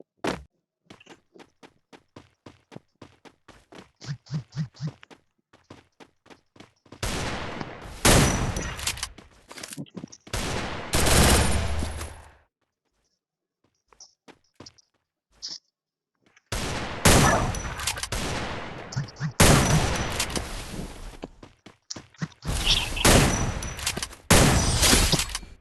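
Shotgun blasts ring out in a Free Fire match, first a run of quick, sharp, evenly spaced shots and then heavier, longer bursts separated by brief pauses, with faint movement sounds between them.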